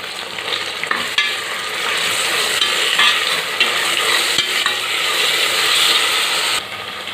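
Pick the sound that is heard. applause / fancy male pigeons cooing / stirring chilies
stirring chilies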